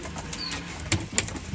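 Fancy pigeons at a home loft give two soft, brief sounds near the middle of an otherwise quiet stretch, one of them likely a cooing call and the other a short flutter.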